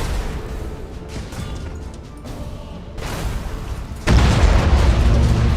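A warship blows up in the space battle game Battlefleet Gothic Armada 2, a deep rumbling boom that swells into a loud, sustained blast over continuous low battle noise, with no talk.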